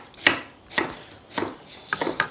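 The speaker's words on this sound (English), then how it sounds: "Slicing some onions to go on the potatoes." Onions sliced with a knife on a board for a Malaysian-Indian potato curry: four distinct chopping strokes at an even pace, close and crisp, with no one talking.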